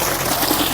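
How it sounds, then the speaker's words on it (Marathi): Water gushes steadily into a farm field at night, a loud, dense, continuous rush close by with no voices. "हे पहा मस्तपैकी पाणी आले"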